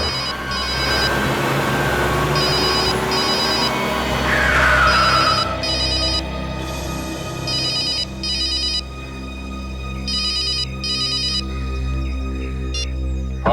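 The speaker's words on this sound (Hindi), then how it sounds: "सर आपका फोन बज रहा है।" A phone rings in repeated electronic ringtone bursts, loud and close, in a steady on-off pattern over a low background hum, with no talking.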